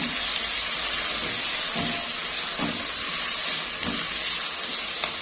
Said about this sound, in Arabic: عندي معلقه من الثوم المفروم اهي، هنزل عليها برضو وهقلبها.